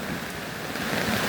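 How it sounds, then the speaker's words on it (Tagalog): Steady heavy rain hisses and patters on surfaces in a dense, even wash of noise during a storm with flooding. "Ang ulan wala pa ni undang."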